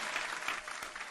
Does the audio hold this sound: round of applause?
yes